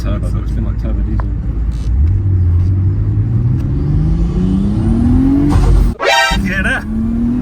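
A Nissan Stagea GTR wagon with a turbo engine accelerates hard from inside the cabin, its note climbing steadily through the rev range. A brief gap follows at a gearshift, then a raspy surge as it pulls again, with people talking loudly over it.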